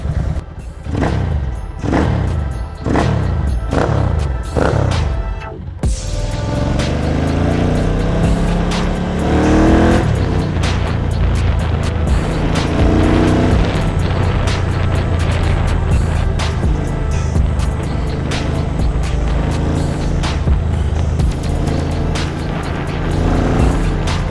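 A Ducati 900 MHR Mile motorcycle engine roars steadily at close range while riding, revving in bursts at first, then holding a loud, continuous drone.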